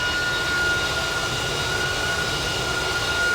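Jet engines of American Airlines flight 774, an airliner, roar steadily and loudly without a break, a broadband rumble with a thin whine running through it.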